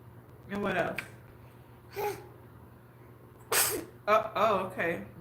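A single sharp sneeze bursts out midway through a live stream, surrounded by short stretches of nearby talk and a steady low hum in the background.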